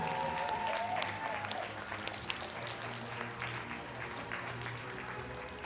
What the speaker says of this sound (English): Give yourselves all a fantastic round of applause for these amazing creations.